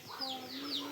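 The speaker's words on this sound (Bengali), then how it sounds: "হাঁস মুরগিগুলা এদের এইটা ঘর" Household chickens and ducks cluck in a few short, faint calls from a backyard coop, heard close with no voices over them.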